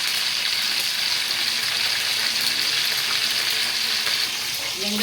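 Dried red chillies and curry leaves fry in hot oil in a pan while pepper chicken is being made, giving a loud, continuous, even sizzle heard close up with no talking.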